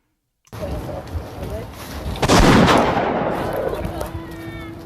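A gunshot cracks sharply in a tense confrontation, followed by a long ringing, booming decay that fills the space, with a voice speaking around it.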